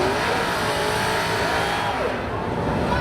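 Spectator drag race cars roar down the strip at Seekonk Speedway, a loud continuous engine drone with shifting pitch as the cars accelerate, no voices.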